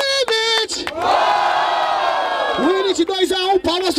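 Crowd at a Batalha da Aldeia freestyle rap battle in Barueri, SP, roaring and cheering loudly around an emcee's strong shouting voice, with whoops rising and falling over a few seconds.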